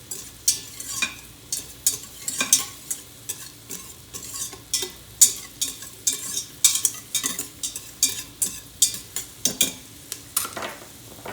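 Onions cooking in a hot pot with olive oil and butter for butternut squash soup, with repeated stirring scrapes and light clinks over a soft, steady sizzle, close and continuous with no talking.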